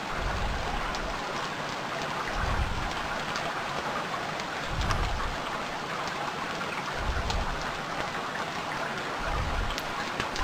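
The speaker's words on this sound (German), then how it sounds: "Kann ich den Regen irgendwie wegschlafen?" Steady, dense rain in the survival video game Stranded Deep, a constant loud hiss of drops with occasional low rumbling surges, heard alone without any voices.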